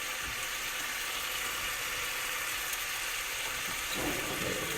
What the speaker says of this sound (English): So we'll just sear these a little bit.